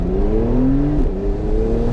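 A Porsche 911 Targa 4S of the 991.2 generation accelerating hard in Sport Plus with the loud exhaust open, a steady close engine roar whose pitch climbs, dips briefly at a shift and climbs again.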